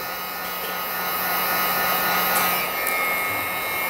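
Hot air blows from a heat gun or dryer onto fiber optic cables, a steady, close, loud whooshing hum with a faint motor whine and no talk.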